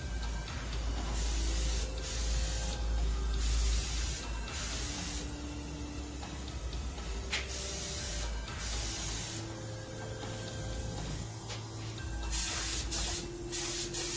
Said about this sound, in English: to test the gun and make final adjustments on the spray pattern